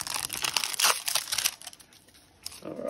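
Pokémon GO trading card packs being ripped open, with close crinkling and tearing of foil wrappers in short bursts, then a brief pause and more rustling.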